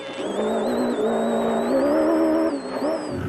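A rally car on a dusty track roars past a truck at speed, its engine loud and close with rising and falling revs and a skidding whine as it sweeps by.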